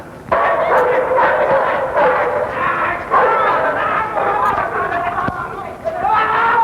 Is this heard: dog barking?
yes